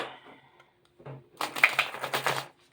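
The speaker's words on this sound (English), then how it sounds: "That was some good shuffle right there." A quick riffle of cards, a dense burst of rapid flicking clicks after a few softer handling sounds, fairly close and loud.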